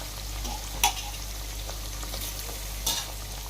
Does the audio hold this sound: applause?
no